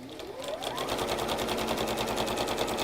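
A sewing machine stitches rows of quilt squares together: after a rising whir at the start, a rapid, steady mechanical chatter of needle strokes runs close and moderately loud, with no talking.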